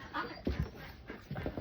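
A farm dog whimpers and pants softly in short bursts close by on a farm, with faint voices in the background.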